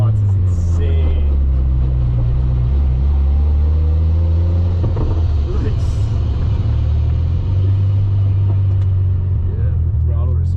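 A Mazda FC RX7 engine runs hard during a street tuning pull, making a loud, close, continuous low drone with shifting harmonic tones that swell and fall as the revs change.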